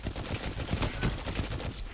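A 450 RPM auto rifle firing in a first-person shooter, steady moderately paced automatic shots that are muffled and mid-distance, blended into busy game noise.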